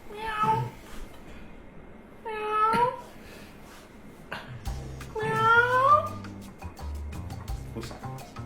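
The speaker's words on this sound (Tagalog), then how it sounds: "Oo nga, pusa." A cat lets out three distinct drawn-out meows with pauses between them, close by, with soft handling noises and faint voices in the background.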